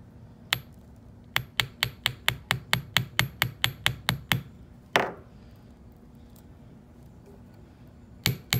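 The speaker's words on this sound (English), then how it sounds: "the way you want to position your tool is you want to just slightly hammer." Light hammer taps on an aluminum pendant, a rapid run of about fifteen sharp metallic strikes, then a scraping sound and two more taps near the end, close and alone.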